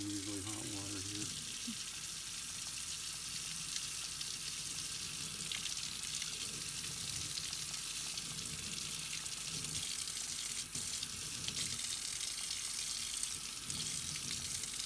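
Eyeglasses rinsed under a steady stream of very hot tap water, a continuous hiss of running water with faint splashing, close and fairly quiet throughout.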